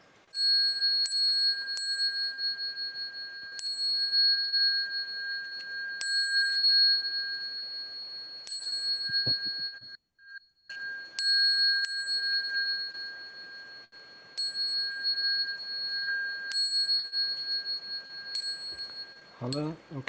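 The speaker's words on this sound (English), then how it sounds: "let me first ring the bell" A Buddhist ritual bell is rung again and again during a Dharma request ceremony, with a bright ringing tone and many sustained strikes at an uneven pace across the whole span. A voice comes in briefly near the end.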